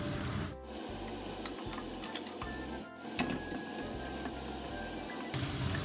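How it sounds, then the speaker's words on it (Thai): Pork and shallots stir-fried in a pan, with a continuous close sizzle and regular rhythmic scrapes and clinks of a spatula against the metal. "แล้วก็ผัดกับหอมอีก"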